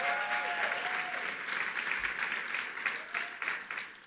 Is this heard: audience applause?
yes